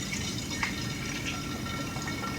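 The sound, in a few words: homemade almond milk poured into a milk jug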